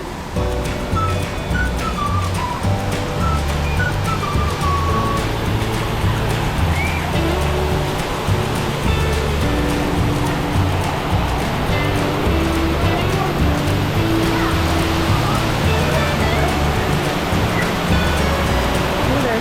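A loud, continuous rush of falling water from a waterfall by a resort pool fills the space, broad and steady, with faint voices mixed in underneath.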